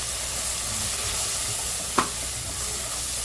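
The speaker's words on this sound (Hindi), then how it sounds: "अच्छे से भुनेंगे" Chicken frying with cumin powder and turmeric, a loud continuous sizzle with one brief clack of a spoon against the pan partway through.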